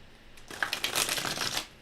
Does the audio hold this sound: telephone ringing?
no